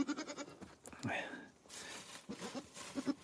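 Newborn baby goats give several short bleats in bursts, close by, with stretches of low rustling in between. Someone may be talking quietly alongside them.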